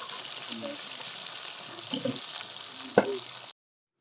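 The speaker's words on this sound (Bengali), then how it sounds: "লাল আলুটাকে উল্টা পাল্টা করে নেবো 2-4 বার" Potato pieces fry in hot oil, a close, steady sizzle with a few soft scrapes and clinks as they are turned over in the pan before the sound cuts off.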